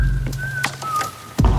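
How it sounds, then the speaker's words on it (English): Whistled notes ring out in a room with natural reverb, a few sustained tones near each other with short breaks, clear and close, with a thump near the end. "we can try with a whistle to add on in the end"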